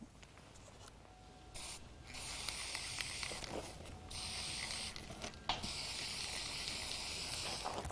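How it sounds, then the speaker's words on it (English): Bursts of hissing spray from an aerosol spray paint can painting a plywood tabletop, several separate blasts of steady airy hiss, close up, with quiet rubbing noises between them. "Paint the plywood top using spray paint."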